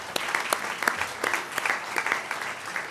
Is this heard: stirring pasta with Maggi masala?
no